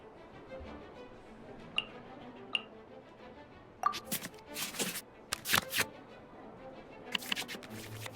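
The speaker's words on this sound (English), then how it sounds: "we can select any number of cards in our hand to shuffle back into the draw pile" Soft digital card sounds in the video game Genshin Impact's card game: a couple of light ticks, then quick bursts of cards shuffling and flicking, crisp and close, with a faint background hum.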